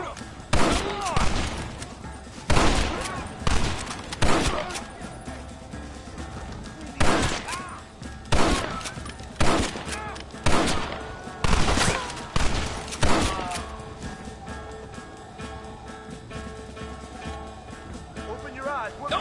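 Gunshots crack through a Red Dead Redemption shootout, loud sharp shots in irregular bursts and volleys spaced across the scene, with people shouting and talking in between.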